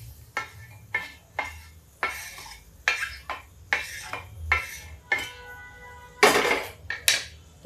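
A spoon scrapes and clinks against a pan in a regular rhythm of stirring strokes as fried onion is mixed with cashews, fairly close and clear, with a louder scrape near the end.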